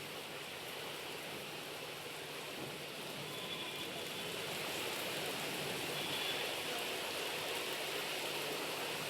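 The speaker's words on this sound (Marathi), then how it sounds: "हिंगोली जिल्ह्यातील विविध भागांमध्ये पावसानं हजेरी लावली" Heavy rain falls in Wardha as a steady, dense hiss of water, even and continuous throughout, swelling slightly louder toward the end with no voices.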